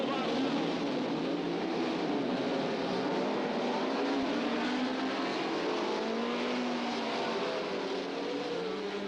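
Formula One Grand Prix cars racing at Mosport, engines droning and rising in pitch as they pass, steady and fairly distant, with a voice talking over the continuous engine noise.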